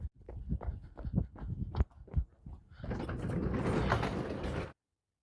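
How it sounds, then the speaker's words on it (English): A garage door opens in a quiet house: a run of knocks and mechanical clunks gives way to a few seconds of continuous rolling, grinding rumble that then stops abruptly. "Sounds like somebody opened the garage door."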